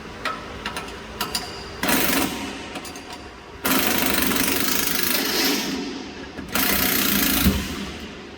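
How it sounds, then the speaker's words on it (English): A pneumatic impact gun loosens the upper shock bolt on a Chevy Colorado ZR2 Bison during a King Shocks install, with three long loud rattling bursts separated by short pauses and light clicking. "Basically use our same impact gun here to remove the upper"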